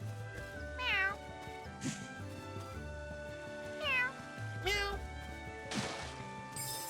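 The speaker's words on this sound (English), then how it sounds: "Why does that cat sound weird?" Several rising-falling cat meows repeat over a busy electronic game soundscape with low tones, about four calls spaced a second or two apart.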